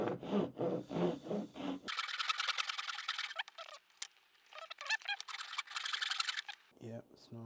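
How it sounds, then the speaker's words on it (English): Wood is hand-sawn with a hand saw for a Japanese scarf joint: steady rasping strokes in a brisk rhythm, close by, after a short stretch of talk at the start. "Somehow I'm sawing nice and straight today."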